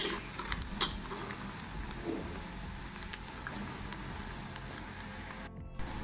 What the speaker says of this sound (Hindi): अब हम इसको गोल्डन फ्राई करेंगे।